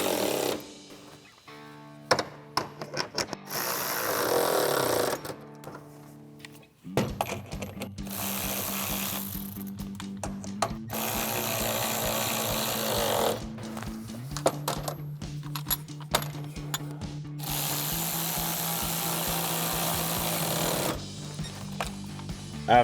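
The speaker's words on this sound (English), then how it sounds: "Then we can go and tighten down these 4 bolts with the 10mm socket" A ratchet with a 10mm socket tightens bolts on a Jeep Gladiator JT side step bracket, producing bursts of rapid metallic clicking separated by short pauses, close and fairly loud.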